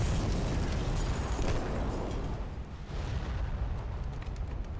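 In Call of Duty 2, fuel drums blow up after being shot, giving a dense, rumbling blast that fills the sound for several seconds before slowly thinning, with no voices over it.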